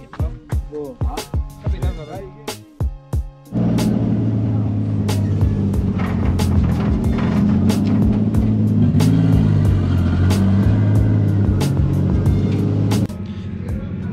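A modified car engine revs up and holds a loud, steady drone for several seconds during a test drive, after some sharp clicks and knocks and brief voices at the start.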